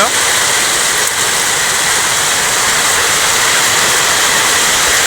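Heavy rain drums steadily on tin roof sheets over a cattle shed during days of continuous downpour, a dense, constant hiss filling the whole stretch with no break.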